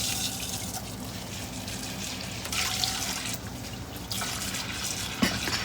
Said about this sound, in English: Let's get our pan down in here and run some water in it.